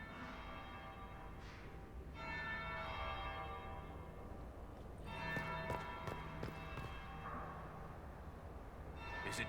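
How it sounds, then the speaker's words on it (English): A bell tolls a second time inside a Dragon Age Inquisition scene, its bright ringing tones swelling and decaying over a busy ambient bed with a couple of louder strikes midway. "That would be the second bell."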